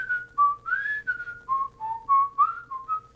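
Someone whistles a cheerful TV theme tune, a clear, close melody of short gliding notes rising and falling over about three seconds, alone without other sounds.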